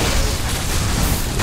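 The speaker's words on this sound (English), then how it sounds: "Got killed by the vehicle explosion." A vehicle explodes in Unreal Tournament 3 with a dense, roaring burst of broadband noise that stays loud and steady for just over a second, with no voices.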